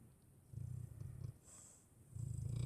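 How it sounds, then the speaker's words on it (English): Quiet, rhythmic low rumbling breaths repeat in slow cycles, a dog's soft snoring with a faint pause between each drawn breath. "the dog is snoring so loud"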